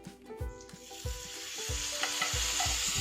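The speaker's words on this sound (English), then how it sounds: "Just kind of stir that around a little bit." Jarred garlic gets stirred into fried chicken in a pan, a rising sizzle broken by rhythmic scraping strokes about twice a second, close and fairly quiet, with no one talking.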